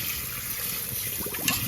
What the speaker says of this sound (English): We're just gonna rinse our meat off, guys.